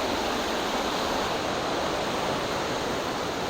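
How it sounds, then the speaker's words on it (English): Dawson Falls in Wells Gray, British Columbia, a powerful waterfall heard as a loud, steady, unbroken roar of rushing water close by. "Amazing, the power of the water."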